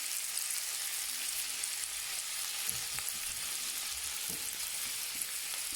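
Sausage frying in a pan for fried rice gives a dense, steady sizzle close by, with a few soft scrapes and taps of stirring underneath.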